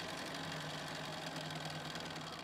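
A sewing machine stitching snow cabin quilt pieces hums as one steady, continuous mechanical drone at moderate distance, with no pauses.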